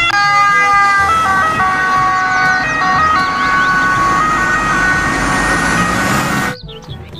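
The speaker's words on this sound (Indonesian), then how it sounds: "di sini ada mobil ambulans" A toy ambulance plays its siren loud and close, a steady electronic wail with warbling pitch steps that runs for several seconds and then cuts off abruptly.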